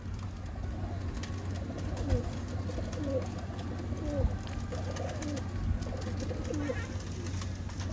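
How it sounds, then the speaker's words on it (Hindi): Pigeons cooing on a rooftop during pigeon keeping in the UAE, soft repeated coos over a steady low hum and background bustle, with faint voices nearby. "जल्दी जल्दी कबूतर दिखाएंगे आपको"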